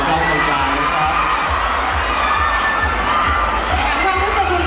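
An audience at a charity event cheers and applauds, with a loud, continuous roar of shouting and excited voices filling the space, close and steady throughout.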